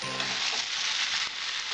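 Chickpeas sizzle steadily in a hot pan with ground turmeric and ginger paste, a loud, continuous frying hiss that holds evenly through the short stretch with no voices.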